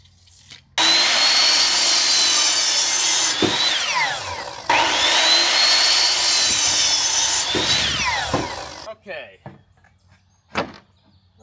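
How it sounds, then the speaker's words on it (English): A power drill drives self-tapping screws through greenhouse roof panels into the wood beneath, two long loud whirring bursts of several seconds each, a brief pause between them, then scattered knocks and clatter as it stops. "I'm literally just going to secure it by drilling some self-tapping screws through it and hold it to the wood"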